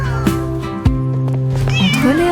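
Kitten in a French nursery-rhyme cartoon song, meowing loudly and clearly several times over sustained musical backing.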